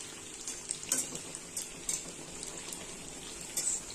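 Jaggery-sweetened sweets from a grandmother's recipe fry slowly in a pan, a soft, quiet sizzle with light scattered pops and faint stirring touches, close by and without voices.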